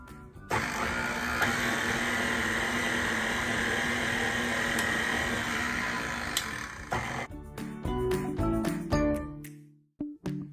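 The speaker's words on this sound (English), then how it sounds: "let's turn the mixer on slow and get everything blended" An electric stand mixer runs on slow speed, blending gluten-free sugar cookie dough with a steady, loud motor whir for about six seconds, then winds down into scattered clanks and scraping.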